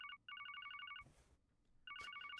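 A flip phone rings in the video game Trails from Zero, giving rapid electronic trilling bursts in two clear rings with a short swoosh between them, at a fairly quiet level.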